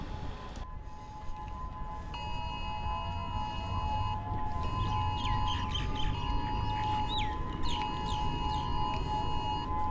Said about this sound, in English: Sirens were blaring, and you could hear them along the way as I walked towards the shore.